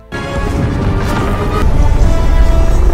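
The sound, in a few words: cartoon planet exploding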